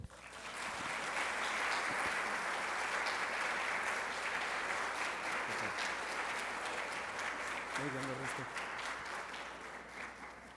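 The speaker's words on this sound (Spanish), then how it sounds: "Recibamos con un fuerte aplauso a nuestro invitado de honor, Ernesto Walker." Sustained audience applause welcoming a guest speaker at a lecture, dense and steady clapping that swells early and fades slightly toward the end, with faint crowd murmur underneath.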